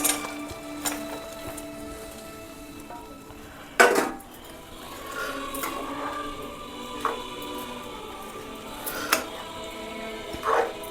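Fried sardines being stirred into a spicy pickle mixture in a pan, with intermittent clinks and scrapes of a spoon against the metal at irregular intervals over a quiet background.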